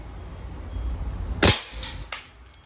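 An Ares full-metal Smith and Wesson airsoft revolver with a 3.5-inch barrel fires one sharp, close crack in single action, followed by fainter clicks after a quiet lead-in.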